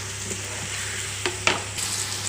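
Green chili paste frying with tomatoes in a pan while making kapsa with ration rice, steady loud sizzling with a few sharp scrapes and clinks from the stirring spoon, close and without talk.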